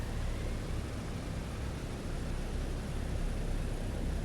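The number 2 piston engine of a PMDG DC-6 runs in Microsoft Flight Simulator after a cold and dark start, giving a steady, unbroken droning rumble at moderate level with no voices.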